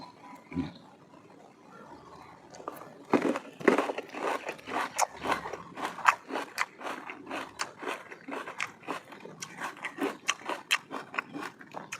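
Crunchy candied jujubes, milk-soaked and chilled, being bitten and chewed up close, a rapid series of sharp crisp crunches that grows denser and louder after the first few seconds, with no talking.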